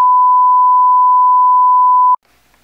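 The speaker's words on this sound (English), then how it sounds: "Oh, the phone's ringing." A steady single electronic tone from a ringing phone, loud and alone for about two seconds before cutting off abruptly, followed by faint room noise.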